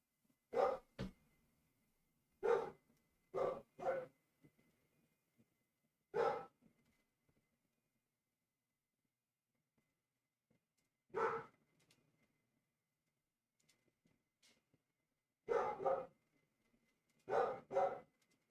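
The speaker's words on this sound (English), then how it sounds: "So I'm pretty sure y'all probably hear Layla barking" A dog barks in short bursts and pairs, separated by long silent gaps, moderately close in a quiet room during a casual live stream.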